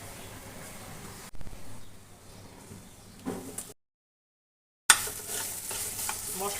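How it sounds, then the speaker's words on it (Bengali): Spice paste and potatoes frying together in a pan, with a continuous sizzle and scraping stir strokes, broken by a moment of complete silence before the frying resumes. "মশলাটা কষিয়ে নেব"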